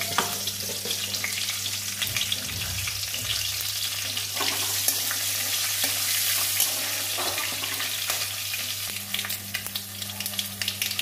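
Green chillies and whole mustard seeds fry in hot oil for a mulo shaak and brinjal dish, a steady close bright sizzle with faint crackles that runs without pause and never drops away.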